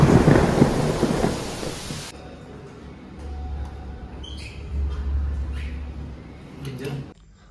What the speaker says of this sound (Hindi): बहुत ही ज़्यादा खतरनाक किस्म की बिजली गिरी,